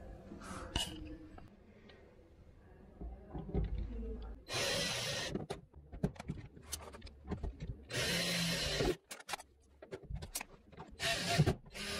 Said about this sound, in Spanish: desde abajo voy a taladrar los agujeros para poder fijarla